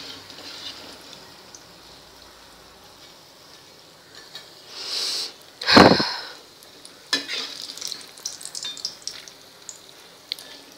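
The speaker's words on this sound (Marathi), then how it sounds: "आता मी हे छानपैकी गोल्डन असे तळून घेते" Batata vada potato fritters deep-frying golden in hot oil: a steady soft sizzle with a sharp, loud hiss burst midway, then lighter crackles and small clinks of a utensil against the pan.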